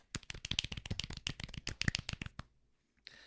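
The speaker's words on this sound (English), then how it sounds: "Golf clap." A quick, light patter of hand claps, a soft golf clap of about twenty rapid taps that stops abruptly, followed by brief quiet and a faint hiss.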